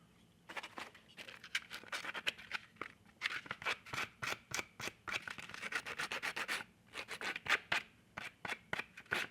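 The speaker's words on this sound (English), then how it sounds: "I'm going to trim this hand real quick." Small snips and scraping strokes come rapidly and close up as a hand part from a 1/6 scale vinyl figure kit is trimmed, the cutting continuing in an uneven rhythm with no voices.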